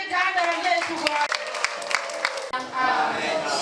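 Church congregation clapping, many hands beating together in a fast, busy patter under a loud voice that speaks over much of it.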